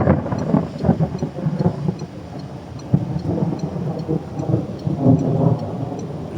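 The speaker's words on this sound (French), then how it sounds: "J'adore l'orage" A thunderstorm over the Crau plain in the Bouches-du-Rhône: steady rain patters while deep thunder rumbles and cracks nearby, loud and continuous with no talking.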